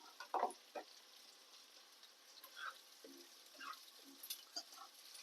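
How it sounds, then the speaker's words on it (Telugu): Bitter gourd pieces tossed into hot vegetable oil, giving a faint, low sizzle with a few brief splashes and stirring clatters, quiet and close, no talking. "ఇదిగో వేసేస్తున్నాను కాకరకాయలు"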